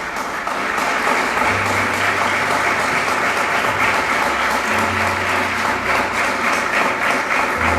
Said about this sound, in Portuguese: Pode se assentar e aplauda bem forte aquele que vive.